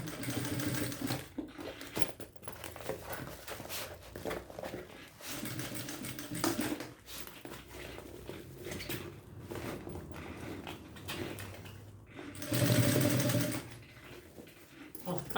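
A sewing machine runs close in long stitching bursts while sewing piping onto a thermal backpack, with brief pauses between runs and a louder, faster stretch near the end.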